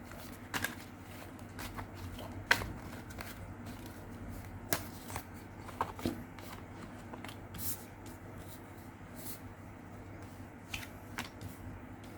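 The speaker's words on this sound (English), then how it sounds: "shuffle your cards" Cards riffle and shuffle softly and repeatedly with small slaps and flicks, fairly close, with no talking.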